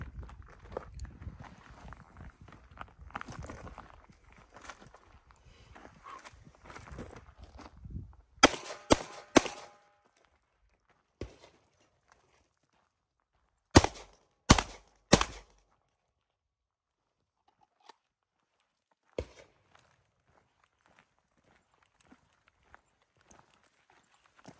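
Galil pistol shots ring out during shooting training, a handful of sharp, loud single reports, some in a quick cluster, spaced across a quiet outdoor range after earlier low shuffling movement.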